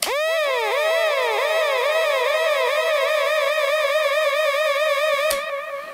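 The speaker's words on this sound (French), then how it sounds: "le beat, en fait, c'est tout simplement la rapidité de votre sirène" Dub siren effect unit producing a rapid, steady stream of repeating upward-swooping electronic tones, loud and continuous, with a sharp click and cutoff near the end; no talking.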